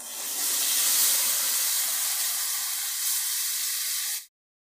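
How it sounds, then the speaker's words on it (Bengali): Hot water poured into a pan of spice-coated potatoes and taro, a loud steady steaming hiss and sizzle lasting about four seconds before cutting off abruptly, with no talking. "এবার দিয়ে দিচ্ছি আমি গরম জল।"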